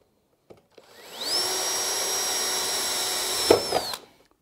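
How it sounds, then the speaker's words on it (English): A power drill with a 3.5mm steel bit bores clearance holes through galvanised steel sheet for a planter box, one steady whine that ramps up, holds for a few seconds with a brief bite near the end, then winds down, close and alone. "And now we're going to drill our clearance holes with a"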